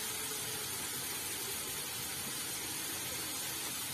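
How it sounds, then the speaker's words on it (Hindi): Ghughuti dough snacks frying in hot oil on a medium flame, a steady, faint bubbling sizzle and hiss that runs continuously without pause. "अब हम इसमें हमने जो घुघुती बनाया है उसे फ्राई करने के लिए डाल देंगे।"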